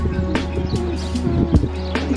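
Pigeons coo in low, repeated murmurs, close by, with scattered wing flutters and faint background noise.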